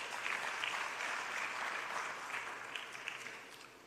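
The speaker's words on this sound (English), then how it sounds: "give yourself a round of applause" A seated audience gives itself a round of applause at the Collen Mashawana Foundation's 10-year anniversary event, a fairly soft but sustained wash of many hands clapping that continues steadily and tapers slightly at the end.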